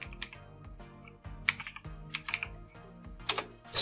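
Quiet clicking of a computer keyboard as a command is typed into Windows 10, irregular keystrokes in short clusters with a few sharper taps, alone in the foreground.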